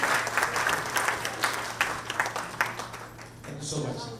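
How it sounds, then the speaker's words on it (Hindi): Audience applause at an annual day celebration for a bhajan singer, steady crowd clapping that is moderately loud and fades slightly near the end, with a low hum underneath. "जोरदार तालियां मालती जी के लिए"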